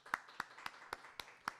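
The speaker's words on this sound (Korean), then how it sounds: "우리 박수로 한번 환영하겠습니다" A church congregation claps in welcome for a newcomer, a sparse, evenly spaced run of about six sharp claps, fairly faint and a little distant.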